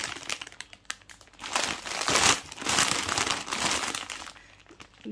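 A thin plastic wrapper around an individually packed chocolate croissant crinkles and rustles in bursts of crackly handling, close and fairly loud, swelling in the middle and easing off near the end.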